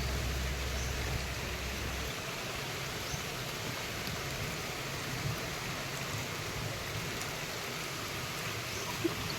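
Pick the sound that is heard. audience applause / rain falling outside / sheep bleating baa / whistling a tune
rain falling outside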